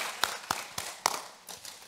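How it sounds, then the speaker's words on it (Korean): Sharp, close hand claps from a church congregation at a Wednesday evening service, struck in a quick, even rhythm of about four beats a second, then thinning out into softer scattered taps. "우리 수고하셨다고 옆에 분들에게 박수"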